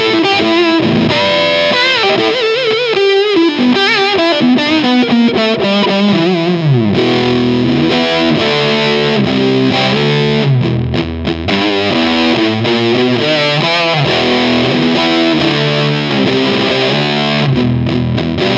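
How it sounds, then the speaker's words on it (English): A guitar run through a vintage-style analog fuzz pedal with a Big Muff edge and a Fuzz Face flavour, played continuously and loudly, with thick, saturated sustained notes and chords alone throughout. "So let's plug this one in and hear some fuzz sounds."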